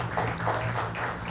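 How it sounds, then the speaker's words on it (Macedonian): A studio audience bursts into applause for a contestant on a Macedonian game show, a dense, even wash of clapping filling the short moment. "Аплауз за?"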